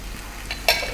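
Beaten eggs hit a hot frying pan with a short sizzle that flares up briefly near the end, quick and close, with no voices.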